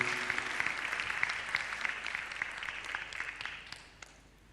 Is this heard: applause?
yes